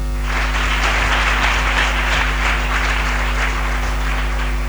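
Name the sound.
congregation clapping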